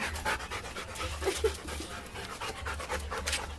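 Dogs pant quickly and steadily at close range, a continuous rhythmic huffing with a faint whimper partway through and no talking.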